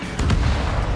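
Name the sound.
missile launch and explosion in video game Ace Combat 7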